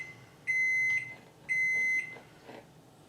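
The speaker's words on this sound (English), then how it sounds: "Oh, my oven is ready." A kitchen oven signals it has finished preheating with two long, steady electronic beeps, each lasting about half a second and separated by a short pause, heard up close over a quiet room.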